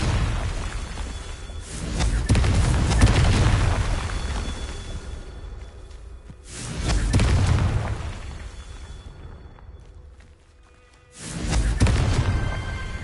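Repeated Confringo fire spell blasts in Hogwarts Legacy during a Merlin trial: three loud booming explosions at roughly even intervals, each swelling and fading with a rumbling tail, no talk over them.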